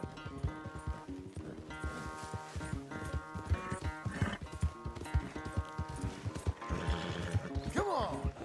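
Horse hooves clip-clop steadily through Red Dead Redemption 2 gameplay, mixed with a dense musical score and a brief whinny near the end.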